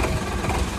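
A tractor engine runs in a steady, close, rumbling idle with no break, alone and without talk.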